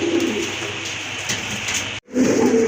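Pigeons of fancy breeds such as red Gola, blackless satin and Lahori coo close by in a loud, overlapping chorus of soft throaty calls, with a brief gap before the cooing resumes.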